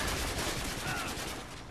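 An airstrike in Modern Warfare 3 during a Domination match, a dense roaring barrage of rapid explosive blasts that fills the moment loudly and fades slightly at the end.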